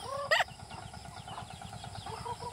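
A Rhode Island hen on a rural Philippine farm gives a quick burst of clucks, then quieter low clucking over soft background noise.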